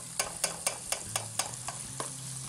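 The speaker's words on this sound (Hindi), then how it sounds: "बहुत ज़्यादा हमने फ्राई नहीं करना है अपनी अनियन को, सौते ही रखना है जी" Onions sauté in a pan, loosely stirred with a utensil; a soft, steady sizzle carries a string of evenly spaced scraping taps, fairly quiet and close.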